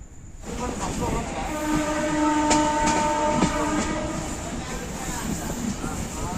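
A passenger train rumbles steadily close by, a high tonal whine and brief horn-like tones over the rolling clatter of wheels, with faint voices.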